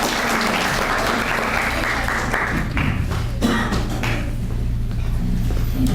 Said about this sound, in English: Let's give a big round of applause for Mr. Diaz